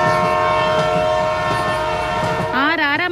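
Passenger train running, with a loud, steady rumble and rattle close by and a long horn blast near the end.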